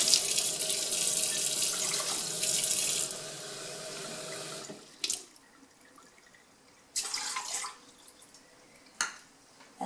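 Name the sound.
warm water running from tap into cup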